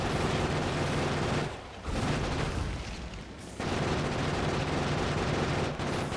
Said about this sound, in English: Throw the grenades!